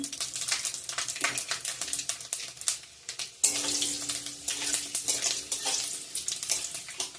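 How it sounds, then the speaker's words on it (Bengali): Bay leaf, dried red chili and Bengali five-spice crackle as they temper in hot oil for festival khichuri, a dense steady sizzle with scraping stirs and a brief dip midway before the frying surges back up. "তেজপাতা দিয়ে দিলাম শুকনো লঙ্কা পাঁচ ফোড়ন"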